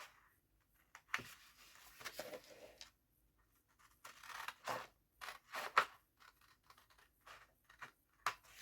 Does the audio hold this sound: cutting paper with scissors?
yes